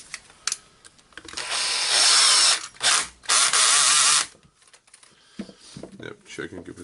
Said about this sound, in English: Just screwing in the screw.